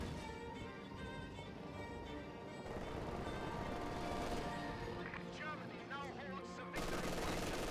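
Gunfire from an MG42 machine gun garrisoned in a building during a Company of Heroes 2 match, sustained bursts mixed into a dense battlefield din with other weapons, and a voice talks over it throughout.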